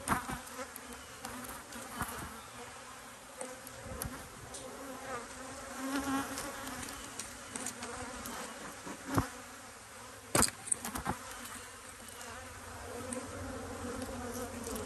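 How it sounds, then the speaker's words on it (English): Honey bees crowd over hive frames heavy with nectar and honey at an apiary, buzzing in a dense, continuous swarm drone with occasional sharp clicks and knocks from handling the frames. "Covered with bees."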